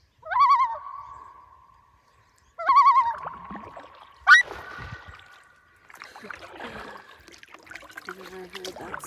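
Loon calls carry across Tim Lake in Algonquin Park from canoe level, two long rising wails followed by a short sharp squeak, then soft paddle and water sounds close by.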